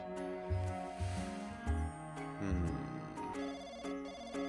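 A telephone rings in a visual novel game, Bloody Chronicles: repeated electronic ringtone bursts in a steady pattern over soft background music.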